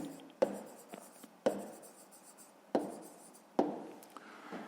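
Handwriting in a maths exercise book, with four sharp pen taps spaced about a second apart, each followed by brief scratching strokes, close and quiet.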